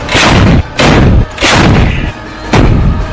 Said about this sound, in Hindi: फिर एक लंबी सी पाइप जैसी चीज से गोले को सेट किया जाता है और तोप एक्टिवेट हो जाती है